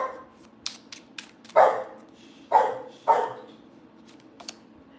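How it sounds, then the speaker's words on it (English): An excited dog barks while being fed indoors, letting out three loud, close barks in quick succession among softer yips, sniffs and clicks, over a low steady room hum. "my dog, she is getting fed and she always acts like she's never eaten before"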